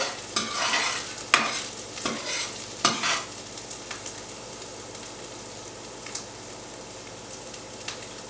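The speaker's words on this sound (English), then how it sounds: "we'll let that fry up a little bit in the oil" Ginger sizzles steadily in oil for aloo gobi under a few sharp stirring scrapes and clatters, loudest early on, then settling into a soft continuous fry.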